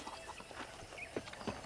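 Horse hooves clip-clop in the Western video game Red Dead Redemption, a few light, irregular knocks at moderate distance over a faint background, with no speech.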